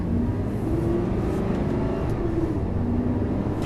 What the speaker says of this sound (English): So to ease off from a start, I put the car in first gear and apply consistent throttle